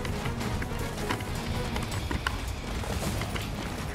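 In the Attack on Titan video game, a horse gallops with quick, steady hoofbeats at moderate loudness over a busy game-sound background.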